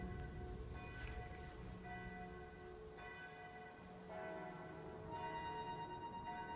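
Peals of church bells ring out in the distance over the Marne as the ceasefire comes at the end of the First World War, several overlapping bell strikes sounding faint and clear over a soft background hiss.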